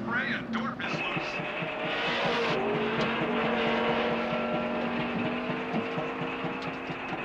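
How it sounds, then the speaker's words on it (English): A Budweiser race car drones steadily on a racetrack, its engine tone holding and shifting through the clip, while a voice talks over it. "The Budweiser car is re-entering the fray and Dorf is loose."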